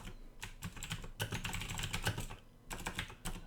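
Rapid clicking keystrokes on a computer keyboard come in several dense bursts separated by brief pauses, close and clear, with no talking.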